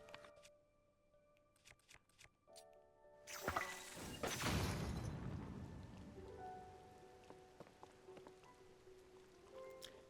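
In-game rain from The Legend of Zelda: Tears of the Kingdom patters faintly, then swells into a noisy burst like a thunderclap or crash before settling into a steady soft hiss among scattered game sound effects.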